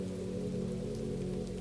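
Steady, even rain patters on a surface beneath a low continuous hum with tonal bands, a soft unbroken ambient bed of moderate level with no voices.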